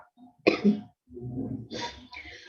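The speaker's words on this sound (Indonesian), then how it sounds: "Maaf ya, ini saya agak batuk." A short burst of coughing, several harsh coughs close to the microphone, with a brief pause between them and no speech.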